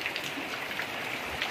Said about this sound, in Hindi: बहुत तेज़ की बारिश हो रही है